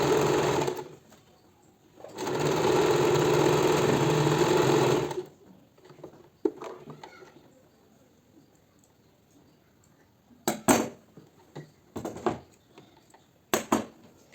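An electric sewing machine stitching an old dupatta into a kaftan runs in a loud, fast whirring burst for about three seconds, followed by quieter scattered clicks and handling taps.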